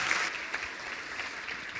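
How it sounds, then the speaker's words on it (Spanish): Steady, fairly faint applause from a large audience at a leadership event in Guatemala, a continuous wash of many hands clapping at an even level throughout. "por favor, un fuerte aplauso a Jhon C."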